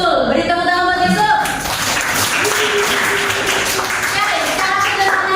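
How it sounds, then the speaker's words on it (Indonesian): A classroom breaks into a burst of clapping that lasts the whole stretch, dense and fairly loud, with voices mixed in beneath the applause. "Betul, beri tepuk tangan buat itu."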